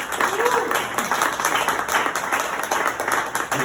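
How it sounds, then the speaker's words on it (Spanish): Audience applause follows the introduction of a teacher at an event, a steady patter of clapping held at moderate level, with some voices mixed in. "Un aplauso."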